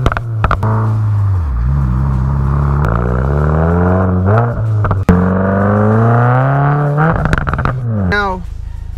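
A Subaru WRX with an aftermarket Tomei exhaust and added resonator revs up and down repeatedly, loud and throaty, the pitch rising and falling in sweeps; close and strong.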